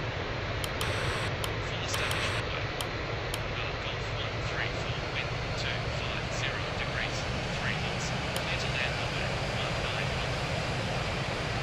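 A Cathay Pacific A330-300 takes off in Real Flight Simulator, its engine roar a steady, loud broadband rush throughout, with faint brief clicks over the top.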